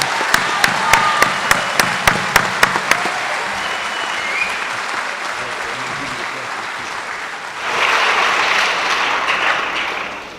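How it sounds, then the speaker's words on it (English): Audience applause for graduating Youth Challenge Academy Class 48 at a graduation ceremony, opening with a few sharp isolated claps before building into steady crowd clapping that swells louder near the end. "Give them a round of applause"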